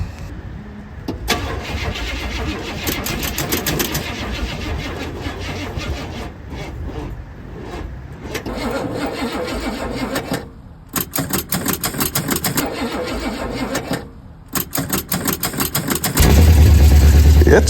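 1968 Buick Skylark engine with open headers cranking with repeated starter bursts and pauses, then catching and running loud and close with a harsh, choppy exhaust bark.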